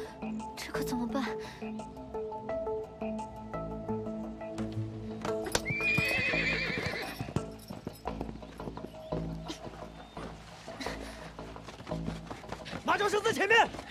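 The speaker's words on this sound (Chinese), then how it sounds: "快，里面有马叫声！" A horse neighs loudly with a long whinny, with hooves clip-clopping and people talking around it.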